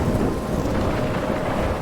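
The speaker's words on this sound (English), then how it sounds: "I'm trapped in a storm?" Stormy weather in the game Life is Strange, with a dense, steady roar of rain and rumbling thunder filling the whole short stretch at constant loudness, with no voices.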